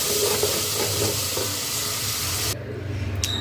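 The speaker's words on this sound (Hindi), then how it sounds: "यहाँ पे मैंने आलू गोभी छौंक दी है" Aloo gobi, potato and cauliflower, sizzles in a hot tempering with a steady, loud, close frying hiss that cuts off abruptly near the end. No one speaks.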